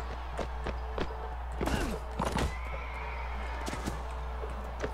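A horse whinnies with a rising and falling neigh while hooves clip-clop in the medieval battle game Mount and Blade Warband, scattered thuds and impacts around it over a steady low hum.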